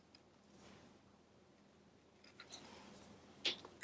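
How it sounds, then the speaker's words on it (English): Scissors snip and trim adhesive paper for a stamping craft project, a few quiet, close crisp cuts and rustles spaced over a few seconds, with a sharper snip near the end. "I hate cutting adhesives. It's so bad for your scissors"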